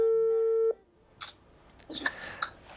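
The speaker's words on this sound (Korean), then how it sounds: "매일 밤 9시가 되면 아빠는 집으로 전화를 거는데요." A father's call home from abroad begins with a long flat telephone tone that stops abruptly, followed by a few faint clicks and beeps on a quiet line.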